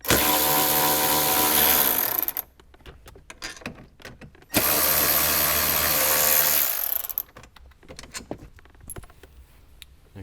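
A power driver fitted with a T30 Torx bit backs out the screws on a grab handle in a 2021-or-later Ford Bronco, giving two loud, sustained whirring bursts of roughly two seconds each, with quieter clicks and handling noise in the pauses.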